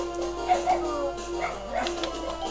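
Several dogs barking frantically outdoors, heard as yips and whimpers from some distance behind a steady bed of video game music and noise.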